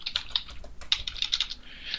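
Fast typing on a computer keyboard, a quick irregular run of light clicks and taps up close, with a brief pause partway through and no speech.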